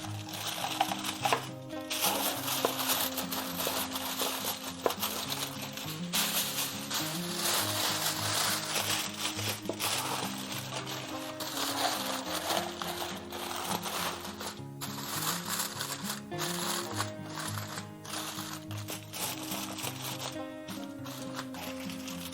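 Two layers of foil crinkling and crumpling as they are wrapped around a turkey, continuous close rustling and crackling with brief pauses, no talking.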